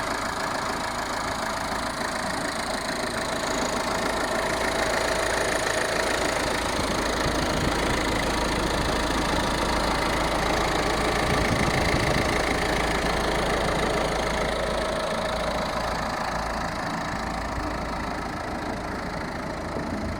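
The 1.5-litre diesel engine of a 2019 Peugeot 308 idles steadily for the whole stretch, a smooth, even rumble with no revving or breaks.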